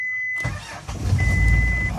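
A diesel car engine cranks and catches after a brief electronic chime, then settles into a loud, rumbling idle close by.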